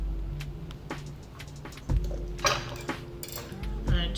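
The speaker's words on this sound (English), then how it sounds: "we're just going to cut them with a very, very sharp knife" A very sharp knife slicing tomatoes on a cutting board in a home kitchen, with a series of soft taps and clicks at an uneven pace, nearby and moderately loud, along with clinks of dishes and pans.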